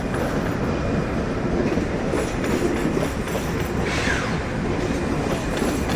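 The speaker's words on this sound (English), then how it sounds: "you can see International Supercity train Pendolino" A Pendolino International Supercity train rolls along the rails approaching a tunnel, a loud continuous rumble with rhythmic clickety-clack and a brief squeal midway, no talking.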